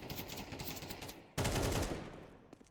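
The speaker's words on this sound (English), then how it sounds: "Nice shot through the smoke." Rapid gunfire in Counter-Strike during a pro league match, a sustained burst of automatic shots followed by a louder, dense volley that trails off, with a couple of faint isolated taps near the end.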